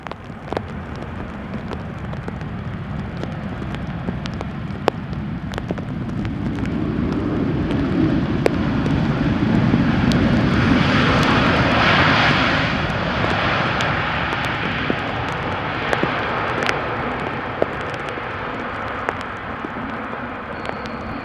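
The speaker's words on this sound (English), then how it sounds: "Let's not miss Air Canada flight 808." Air Canada flight 808, an airliner, arrives at Amsterdam Schiphol on a showery day, its engine roar swelling to a peak midway and then fading, with faint rain-like patter and scattered clicks in the background.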